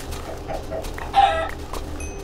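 Chickens in the video game Minecraft give a few short clucks, with one louder, sharper cluck in the middle, over a low steady background hum.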